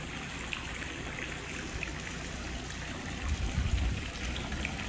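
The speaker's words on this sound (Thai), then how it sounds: "สวยงามค่ะน้ำดื่มได้นะคะตรงนี" Water runs steadily from a public drinking fountain in Brugg old town, a close, even splashing trickle that stays constant throughout, with a slightly fuller gush near the end.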